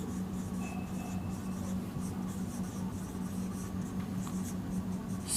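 A teacher writing lines of math on a board during a Class 12 continuity lesson: a continuous scratchy scrawl of strokes at moderate distance, with no talking.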